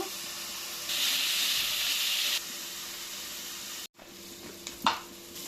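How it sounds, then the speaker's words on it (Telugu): Chopped onions sizzle steadily in hot oil for chicken fry piece biryani, a continuous bright frying hiss with a louder burst early on, then softer sizzling with a few close stirring scrapes near the end. "చికెన్ పీస్ బిర్యానీకి ఉల్లిగడ్డలు మంచిగా గోల్డెన్ కలర్ వచ్చేదాకా ఇట్లా వేయించుకోవాలి."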